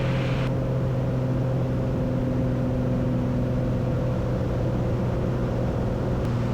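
A light aircraft's engine and propeller drone steadily after the throttle is eased back, with a strong low hum and harmonic tones holding level throughout at close range inside the cabin.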